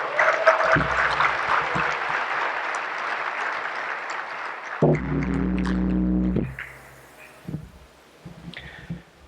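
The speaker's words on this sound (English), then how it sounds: "Ladies and gentlemen, a big round of applause for everybody." An awards gala crowd applauds, a broad wash of clapping that carries for about five seconds and then fades. Music follows, then scattered sounds.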